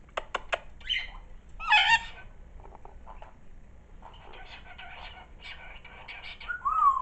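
A pet cockatiel gives a few sharp calls and whistles indoors, brief chirps scattered between quieter stretches at close range.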